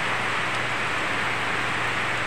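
Dense, steady hiss of heavy rain pours without letup near rice paddies, a broad wash of noise close by and uninterrupted.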